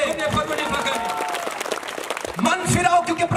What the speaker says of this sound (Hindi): ताली बजाएं प्रभु के लिए जोर से,